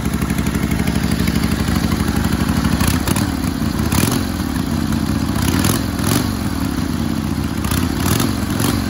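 A Harley Roadster XLS1000 with new old-school mufflers on a 70's chopper build runs close by, its engine loping at a steady, muffled beat with a few light throttle blips.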